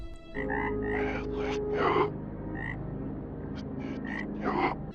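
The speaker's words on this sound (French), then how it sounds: "on arrive à y distinguer de l'imagerie liée aux grenouilles, des sons de grenouilles bizarres" Strange frog croaks ring out in short, irregular bursts over a low, steady hum, fairly close and moderately loud.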